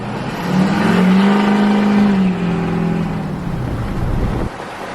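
A Duramax diesel truck with a 5-inch straight pipe exhaust accelerates with the windows down, its loud, deep drone climbing steadily in pitch for several seconds before easing off.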